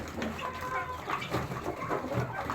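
Turkey and guinea fowl on a poultry farm give off a steady run of clucks and calls through ambient farm noise, close by and moderately loud.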